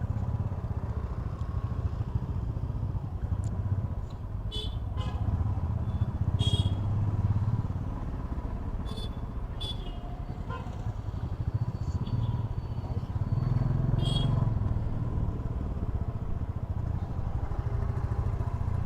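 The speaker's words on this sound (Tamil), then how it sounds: "வண்டி வருது பாரு." Motorcycle on a road: a continuous low engine rumble with occasional clattering and brief higher noises, fairly close and steady throughout.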